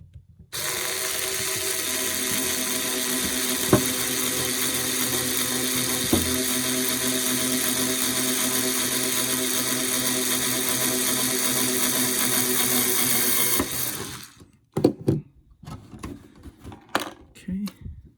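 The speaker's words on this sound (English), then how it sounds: "Let's go ahead and drill this hole right here." A power drill bores holes in a Tamiya Buggyra Fat Fox RC car body, a loud, steady whine held close for about thirteen seconds with a couple of sharp ticks, then stopping into a few clicks and handling knocks.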